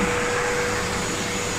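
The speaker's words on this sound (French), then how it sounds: "Aspirateur." A vacuum cleaner runs steadily and loudly during a big clean-up of a converted van being fitted with custom wooden chests and parquet flooring, a constant broadband drone with a faint steady whine and no voices.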